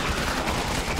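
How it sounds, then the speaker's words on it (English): Brief, dense gunfire bursts from Resident Evil 6, heard in Leon and Helena's campaign, fill a single loud second with no speech. "Is something shooting at us?"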